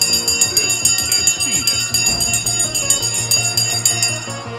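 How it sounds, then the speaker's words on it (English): A bell rings steadily and loudly for several seconds, marking the opening of a stock market trading session, with a continuous bright metallic ringing that fills the whole clip. "The bell has gone."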